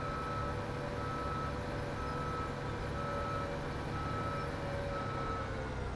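Tractor reversing alarm in Farming Simulator 17 running Courseplay, a steady tonal beep held over a constant low engine drone, with no gaps or talk.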